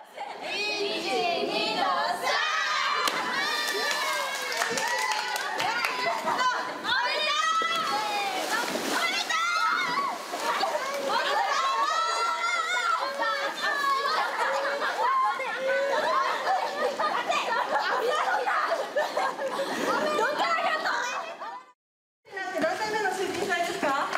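At a boat race celebration after a winner's first victory, people splash into the water amid continuous loud crowd chatter, shouts and cheering, with a brief drop-out near the end.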